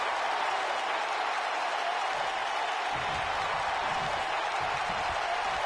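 A capacity crowd at a professional wrestling arena cheers in a steady, dense roar with applause-like texture, sustained and loud throughout with no break.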